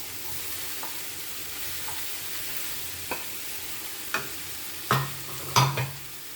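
Broccoli sabji cooked with butter and sugar sizzles in a pan, a soft steady frying hiss broken by several clacks of a spatula stirring and scraping that grow louder and closer together toward the end.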